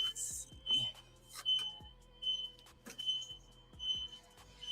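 An alarm going off during a massive San Francisco power blackout, sounding a thin, high electronic beep that repeats steadily about once a second, with soft low thumps and rustles around it.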